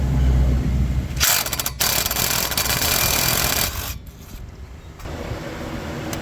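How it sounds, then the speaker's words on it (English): Ratchet wrench removing a 10mm bolt that holds the brake line bracket on a 2002–2006 Honda CR-V during a front passenger strut replacement, with steady close clicking and brief pauses against loud background noise. "First, we're gonna remove this 10mm bolt here that holds the brake line to the bracket."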